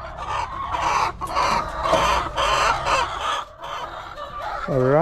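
Chickens in a small backyard farm cluck and call repeatedly at close range, with overlapping bursts of fowl chatter and a rooster-like rising call near the end, no talking.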